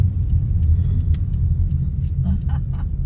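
Cars driving along a flooded street in front of a building, a heavy, steady low engine rumble close by, with a few faint, brief high splashes or clicks over it and no voices.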